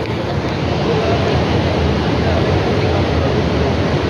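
Fast-flowing flood river water during heavy rain near Lahore, Punjab, a loud steady rushing roar with wind buffeting the microphone throughout.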